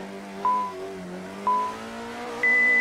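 Alpine A110 1800 Groupe 4 rally car in Assetto Corsa, its engine droning steadily with harmonic whine while sharp upshifts or revs jump in pitch three times, loud and close with no talk.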